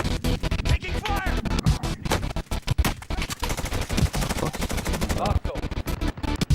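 Dense video-game gunfire crackles nonstop, with loud rapid bursts of automatic shots and scattered single cracks packed tightly together across the whole stretch, close and harsh.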